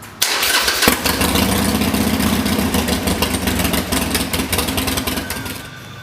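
A 2007 Harley-Davidson Sportster engine cranks and catches, then runs at a loud, steady, lumpy idle close by for several seconds, easing off slightly at the end.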